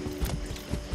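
Horse hooves clip-clopping at a steady trot while riding in Far Cry 6, a few close, thudding beats in quick rhythm with no voices.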